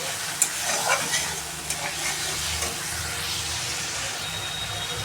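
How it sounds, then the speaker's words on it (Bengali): Spice paste with salt and turmeric fries in a pan for a fish curry, a continuous close sizzle broken by soft scraping stirs and a few light clinks, with no voice. "মশলাটা ভালো করে কষাবো।"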